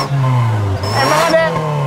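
A car engine revs hard with a cheap exhaust whistle gadget fitted to the tailpipe, giving a rising whine over the loud engine roar, with people talking nearby.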